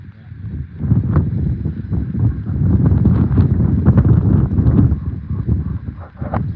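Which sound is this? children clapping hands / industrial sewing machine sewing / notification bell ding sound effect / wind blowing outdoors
wind blowing outdoors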